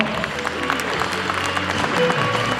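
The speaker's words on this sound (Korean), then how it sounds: "박수 한번 부탁드리고요" A crowd applauds guests being introduced at a book launch event, steady clapping under a low hall hum with some voices mixed in.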